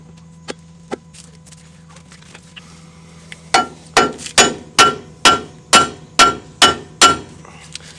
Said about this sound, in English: So make sure you're hitting on the knuckle and not on the lower ball joint itself.